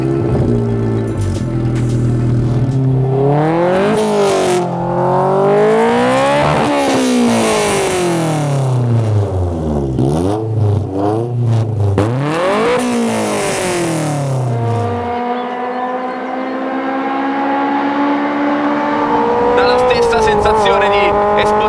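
A Raw Striker running a swapped Honda S2000 VTEC engine that revs past 9000 rpm climbs and drops through repeated loud, close revs, its pitch rising and falling as it drives, then settles into a steady high drone.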